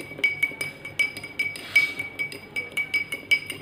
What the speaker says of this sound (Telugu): వేసి కలపండి చక్కగా. ఉప్పు మొత్తం కరిగే వరకు కలపండి.